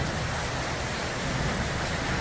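Hail falling on a terrace during a storm, a dense, steady patter and hiss of countless small impacts continuing without pause, no voices present.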